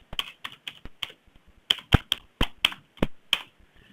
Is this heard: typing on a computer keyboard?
yes